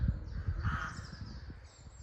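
A crow caws once or twice over a green garlic field outdoors, fairly faint against low rumbling wind.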